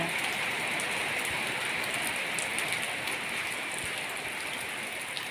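Steady early-morning downpour of heavy rain, a thick continuous hiss with scattered drops pattering on a surface throughout.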